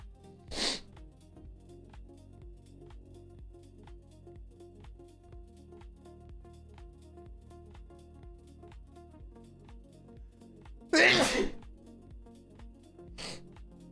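A person sneezes sharply with a short burst early on, then later a louder, explosive sneeze followed by a smaller snort-like aftershock, all against a quiet background of soft music.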